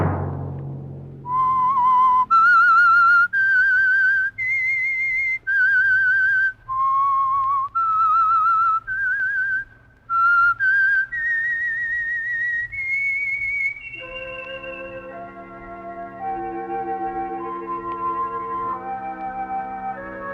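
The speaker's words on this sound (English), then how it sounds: "Let that whistle be your signal for the Signal Oil program, The Whistler" The whistled theme of The Whistler radio program: a lone whistler carries a clear, eerie melody of sustained and sliding notes over a low instrumental drone, then an orchestral passage takes over.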